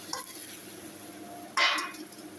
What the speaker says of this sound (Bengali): এই যে একটা বাইগুন কেটে রেখেছি, এটুকু দিলাম।